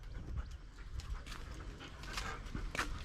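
A pet dog at a home, panting and shuffling close by, with faint whimpers and small scuffling sounds over a steady low background.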